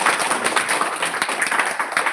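Seated audience clapping at a Modicare business training session, a brief, even patter of many hands with no voices on top.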